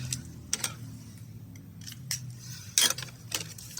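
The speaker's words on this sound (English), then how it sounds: "So now I can come in with my scissors and just cut straight up that line." Scissors snip through a cardboard toilet paper roll in a quiet room, giving several short, crisp cuts spaced irregularly, with one sharper snip near the end.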